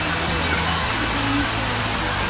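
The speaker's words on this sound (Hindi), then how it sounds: "ये झरना है" Steady broadband rush of a covered waterfall in a bird park and wildlife sanctuary, continuous and fairly loud, with voices talking over the falling water.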